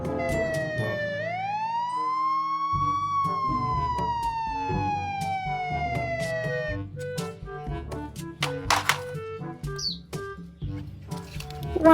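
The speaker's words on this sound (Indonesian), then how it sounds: "Wow, ini ada mobil patroli polisi." A police patrol car siren gives one long rising-then-falling wail, then breaks into scattered clatter and short tones, moderately loud with no speech.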